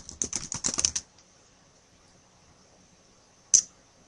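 A brief burst of keystrokes on a computer keyboard, close and quiet, then near silence before one sharp click.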